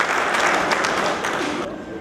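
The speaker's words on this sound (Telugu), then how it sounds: "గట్టిగా చప్పట్లతో వెల్కమ్ చెప్పి" An audience applauds to welcome the chief guest at a turmeric board meeting with farmers and traders, a dense burst of clapping that tapers off near the end.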